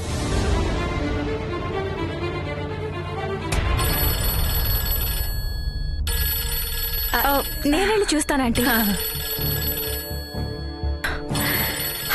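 A telephone rings repeatedly in a bright electronic trill, loud and close, while someone talks over it.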